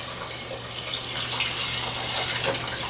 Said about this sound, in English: And to that, I'm going to add my chicken stock here.